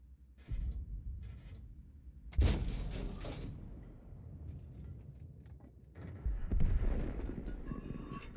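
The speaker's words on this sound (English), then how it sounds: "I can hear somebody firing." Gunfire inside a tank-battle video game, with distant shots bursting out in several sharp, broadband volleys around two to four seconds and again after six seconds, separated by low rumbling engine-like background.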